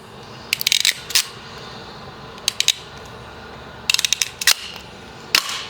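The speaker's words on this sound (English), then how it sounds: "Black to black, and crimp." A crimping tool snaps wire connectors shut on a 2021 Ford Bronco XL light kit wiring harness, giving clusters of sharp metallic clicks and ratchet snaps in short close bursts separated by quiet gaps.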